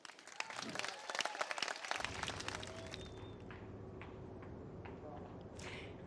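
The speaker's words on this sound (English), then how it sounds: "that last one drawing a big applause" Audience applause during a South Carolina governor's speech: a burst of many hands clapping for about two seconds, then a crowd hum with scattered claps and murmuring voices fading under it.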